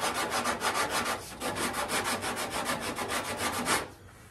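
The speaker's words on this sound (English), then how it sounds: "I'm going to sand that flat and stop at that line" Steady back-and-forth hand sanding on the body of a 1968 Firebird during restoration, a close rhythmic rasping of about a dozen even strokes that stops near the end.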